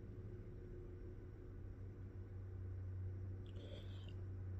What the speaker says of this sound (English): I hate that man with that loud truck